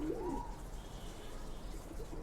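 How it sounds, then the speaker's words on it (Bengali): A female pigeon cooing close by, one soft throaty coo near the start followed by quieter low murmuring over a faint steady hum. "এই যে আমি আরেকটা কবুতর নিয়ে আসছি, মাদি কবুতর"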